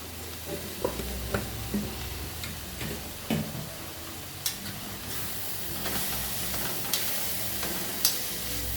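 Kashmiri chili masala with turmeric cooks slowly over low heat, a soft steady sizzle running throughout with scattered light clicks and taps of stirring against the pan.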